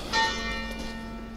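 Village church bells ring out with one clear struck tone and a long sustained, shimmering hum that decays slowly, moderately near and alone.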